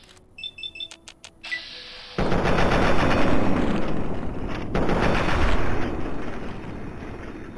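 Gunfire and explosions in the video game Fallout 3: a few sparse beeps and clicks, then a sudden loud sustained barrage of rapid shots and booming blasts rumbling continuously for several seconds.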